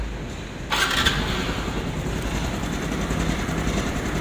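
A Honda RSX 110 motorcycle engine, recently noisy after an oil change, cranks and catches, then settles into a steady, close idle rumble.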